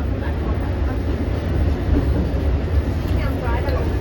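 An eastbound Long Island Rail Road train passes on the Main Line near Mineola, heard from aboard another train as a steady, close rumble with faint rail clatter throughout.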